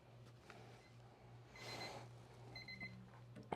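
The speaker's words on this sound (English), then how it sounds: "see the timer's gone off" A kitchen timer alarm sounding while heat treating a cello neck, faint thin beeps over a steady low hum in a quiet room.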